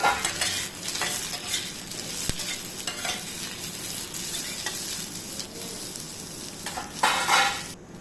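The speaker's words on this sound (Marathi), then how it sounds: "कांदा पण आपल्याला गोल्डन कलर होईपर्यंत चांगला भाजून घ्यायचा आहे" Onion fries toward golden in a pan, with a loud sizzle broken by frequent scraping and stirring strokes of a utensil against the metal and a sharp clink near the middle, with no voices.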